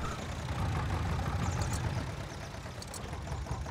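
In Farming Simulator 22, a tractor engine idles with a continuous low rumble at moderate level. A few faint higher clicks sit on top of it.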